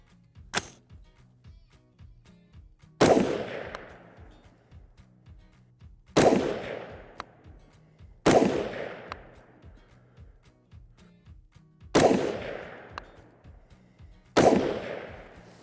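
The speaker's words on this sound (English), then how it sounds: "as I shoot this rifle, I have to say it's overgassed" AR-X LightFighter rifle firing 73 grain ammunition without a suppressor, six loud sharp reports at irregular intervals of a few seconds, each with a ringing outdoor decay, with faint clinks and handling noise between shots.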